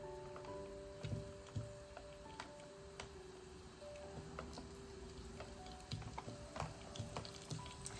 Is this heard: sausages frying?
yes